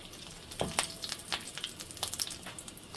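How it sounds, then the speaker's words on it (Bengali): Dried chili frying in hot oil, a steady close sizzle with small popping spatters scattered throughout. "শুকনো মরিচটা দিয়ে দিলাম। তেলটা গরম হয়ে গেছে"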